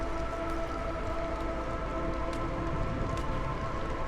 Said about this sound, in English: Remember, we have a 4-minute storm.